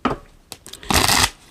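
Oracle cards are shuffled by hand in a few quick close riffles and slaps: a short rustle, two brief snaps, then a longer papery burst.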